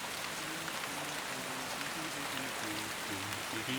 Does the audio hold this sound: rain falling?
yes